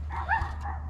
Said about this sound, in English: I had a dog going crazy over there.